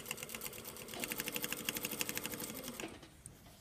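A sewing machine stitches along a shirt collar, a fast even whirring chatter of needle strokes for a few seconds before it stops, close and moderately loud, with no talking.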